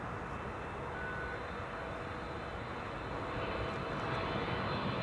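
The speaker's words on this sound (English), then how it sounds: "This is KLM Asia, a 777-300 arriving from Vancouver" KLM Boeing 777-300 airliner arriving on runway 06 at Amsterdam Schiphol, a steady distant engine roar and rushing hum that stays even and swells slightly toward the end, with no talking.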